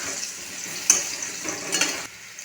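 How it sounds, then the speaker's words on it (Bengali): Vegetables including cut pumpkin are stirred and fried in a pan, giving a steady sizzle with a few brief scraping clatters, fairly close and without speech. "কেটে রাখা কুমড়ো, সমস্ত সবজিগুলি খুব ভালোভাবে নেড়ে চেড়ে ভেজে নেব"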